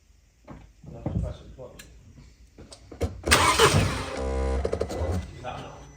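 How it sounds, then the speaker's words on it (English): A Mini Cooper D 1.6 diesel cranks and fires up after a crank pulley change, preceded by clicks and clunks, then the starter whirs and the engine catches into a loud, rattly idle close by. "so I'll get the belt on and start the car."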